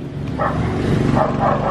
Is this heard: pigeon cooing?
no